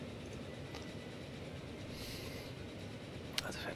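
Electric train running through the Transport Fever video game, a steady, fairly faint rumbling rail drone that holds throughout, with a couple of brief higher clicks near the end and no talk.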